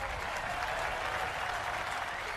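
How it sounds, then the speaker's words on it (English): A crowd applauds steadily at an Olympic K1 kayak event, the dense clapping filling the arena at an even level without letup, a little distant. "The rhythmic clapping helping out."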